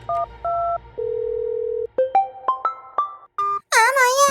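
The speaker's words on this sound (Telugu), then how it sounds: "ముక్కుగాడికి ఫోన్ చేద్దాం." A mobile phone placing a call gives a sequence of steady dial tones and short keypad beeps, then a brighter warbling ringtone-like burst at the end, loud and close with no talk.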